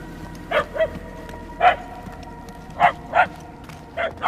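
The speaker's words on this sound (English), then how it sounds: "The barks are getting louder at least." Dogs bark repeatedly at a distance in a Guardians of the Galaxy video game, about seven short barks spaced irregularly over a low outdoor ambience.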